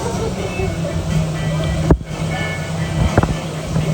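Steady wind buffets the microphone over a low engine hum on a dolphin-watching boat on the water, with a couple of sharp thumps.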